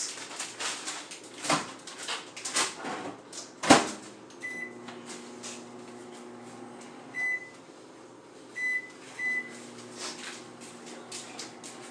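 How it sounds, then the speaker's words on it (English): Microwave oven heating broccoli in a home kitchen: door clunks and handling noises, then a steady low hum with several short beeps, and a dog whimpering faintly nearby. "I'm going to put this in the microwave for 5 minutes"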